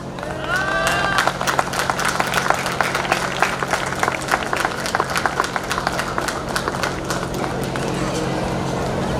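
A crowd at a 2019 Dr. Ambedkar Jayanti event gives loud, sustained applause for an award recipient, dense overlapping claps filling the whole stretch at a steady level.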